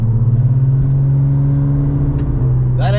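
A Porsche 911 Turbo with a straight-pipe exhaust drones loudly and steadily. Its deep, continuous low hum holds at a constant pitch from start to finish.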